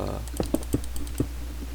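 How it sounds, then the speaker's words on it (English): Sharp, close clicks from a loud computer mouse during Minecraft building, four distinct taps spaced irregularly over a quiet background hum. "Sorry about my clicking, by the way. My mouse is loud and my microphone is sensitive."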